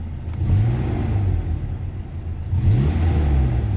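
A 1998 Toyota Tacoma engine revved twice from idle, each rise in pitch swelling then falling back, a close, smooth mid-range engine rumble with no talking.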